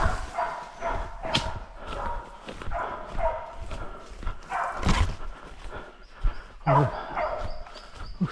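Hunting dogs bark off and on during a hog hunt in tropical Cape York bush, with scattered barks at middle distance over rustling and movement.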